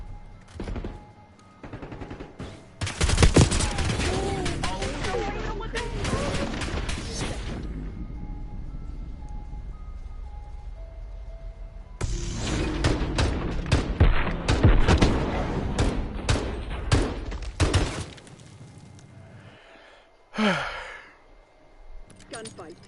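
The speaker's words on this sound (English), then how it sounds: "Gunfight." Gunfight in the video game Black Ops 6/Warzone: two long stretches of rapid automatic fire separated by a quieter lull, loud and close, with players' voices talking between and over the shots.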